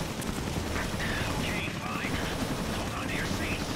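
A player in the video game Resident Evil Village fires steadily at a boss, gunfire dense and continuous against a noisy, rumbling battle background, with no clear separate voices.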